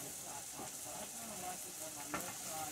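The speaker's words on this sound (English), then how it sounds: "shrimp are cooking along with the mussels." Shrimp and mussels cook in a pan with a quiet, steady sizzle and faint hiss, a low continuous frying sound with an occasional clink of a utensil.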